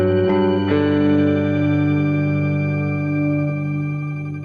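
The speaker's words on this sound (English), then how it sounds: "You can go up to 36 semitones, which sounds like this." Guitar through a Kemper Profiler pitch shifter set to 36 semitones, a couple of plucked notes blooming into a long sustained tone with a high, thin shifted layer over it and some echo, fading gently, no voices.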